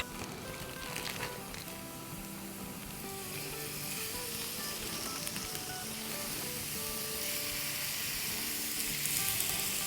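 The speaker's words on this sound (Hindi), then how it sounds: "अनियन थोड़ी बहुत सौटे हो गई है, इसको अब हम थोड़ा सा किनारे पे कर देंगे और अब चिकन डाल देंगे।" Chicken hitting a hot pan of sautéed onions over a medium flame, a steady close sizzle and hiss that builds slightly toward the end, with faint stirring and no talk.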